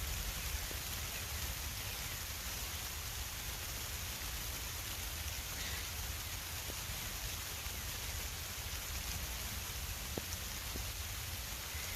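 Steady rain falls outdoors where free-flying cockatiels perch, making a soft, even hiss with scattered faint drops throughout.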